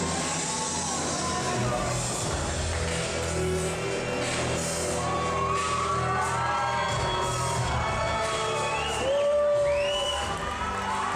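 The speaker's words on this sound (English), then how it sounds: "And the crowd very excited tonight here in the IWF." Excited wrestling crowd at an independent International Wrestling Federation show, a continuous loud roar of cheering, whoops and shouts from a packed audience, with rising yells near the end.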